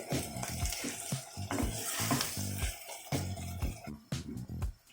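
Onions browning in a pan for chicken curry, a steady close sizzle with bursts of stirring and scraping that rise and fall continuously throughout.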